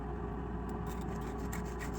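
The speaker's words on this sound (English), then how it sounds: "Just sawing off the toe end." An old, beat-up Japanese pull saw with one tooth missing cuts off the toe end of a 19th-century long-nose golf club, giving soft rasping strokes over a steady low background hum.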